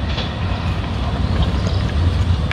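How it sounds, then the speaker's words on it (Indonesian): The Lodaya passenger train, hauling Argo Dwipangga cars, runs straight through Cimekar station without stopping, giving a loud, continuous, close rumble and rush of rolling wheels. "memakai dua kereta Argo Dwi Pangga baru saja melintas langsung di stasiun Cimekar"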